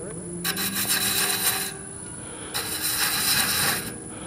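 A thread chaser scratches a spiral thread into spinning wood on a lathe, giving two bursts of harsh, rasping scraping separated by a quieter stretch of the turning hum.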